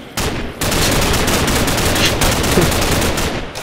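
Rapid gunfire from shooting zombies in Minecraft, a dense, loud, continuous burst of shots with a brief gap near the start, no voices over it.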